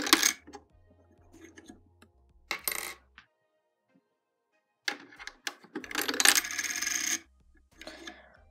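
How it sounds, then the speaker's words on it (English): Coins clatter and jingle as a LEGO candy machine rejects them into its rejection slot, several bursts of metallic clinking separated by short silences, close and clear. "To me, it's very satisfying when the coins come out in the rejection slot."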